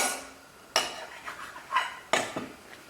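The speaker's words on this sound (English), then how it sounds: "I'm going to cut it into more manageable pieces" Two sharp knife strokes hit a board, each followed by a softer scraping slice through rolled-out pasta dough, close and clear with no talking.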